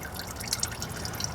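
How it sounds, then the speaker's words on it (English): Engine oil drips from a 2013 Toyota Corolla during a backyard oil change, giving soft intermittent close drips over a quiet background. "So I'm gonna let this drip a little longer here"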